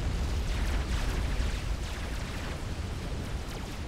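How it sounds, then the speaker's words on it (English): Continuous dense rumble of explosions from Corsair aircraft attacking ground units in the strategy game Forged Alliance Forever, a steady loud barrage of overlapping booms and bursts with no clear gaps. "now taking some Corsair fire"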